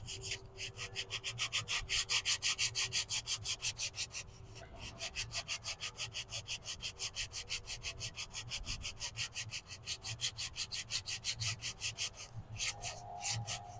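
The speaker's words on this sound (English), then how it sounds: "we're going to sand it. So I have some 100 grit sandpaper." A juniper bow stave with a deer rawhide backing is sanded by hand with 100 grit sandpaper, producing quick rhythmic back-and-forth scratching strokes, several per second, close up and steady throughout.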